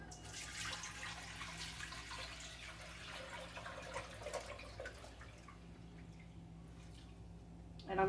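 Tap water runs steadily into a cooking pot in a home kitchen, a continuous close splashing stream throughout with a faint drip near the end.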